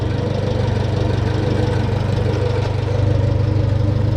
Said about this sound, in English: Idle's good.